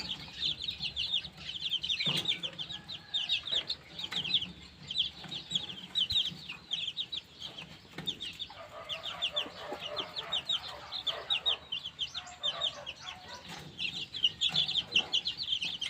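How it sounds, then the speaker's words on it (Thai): Several white black-tailed bantam chickens cluck and chatter continuously at close range, with busy overlapping calls and no talking. "โชว์ไก่แจ้วันนี้"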